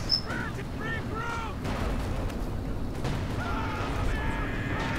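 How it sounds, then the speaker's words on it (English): Video game artillery fire in Company of Heroes 2 rumbles through the battle as dense, continuous booms and gunfire, with voices speaking over the din. "I'm glad to see that my artillery helped out a little bit on that front"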